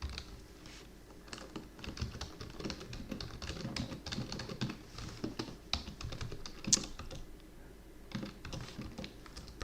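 Rapid keystrokes on a computer keyboard, close and fairly quiet, coming in uneven bursts of tapping with brief pauses.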